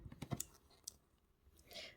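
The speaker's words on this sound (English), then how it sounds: "then we're going to cut those wires, flatten down the cut ends" Wire cutters snip jewelry wire for wire-wrapped earrings, giving a quick cluster of sharp, close clicks and then a couple of lighter isolated snaps within two seconds.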